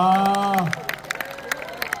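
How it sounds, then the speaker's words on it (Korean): Festival audience at a street busking parade claps for a percussion group, scattered hand claps following a brief spoken voice, fairly close and moderately loud. "우리 라퍼커션에 다시 한번 뜨거운 박수 한번 보내주시면 고맙겠습니다"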